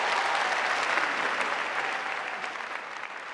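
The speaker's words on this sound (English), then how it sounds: "that sure does deserve a round of applause" A crowd applauds steadily and evenly throughout, moderately distant and softening a little toward the end.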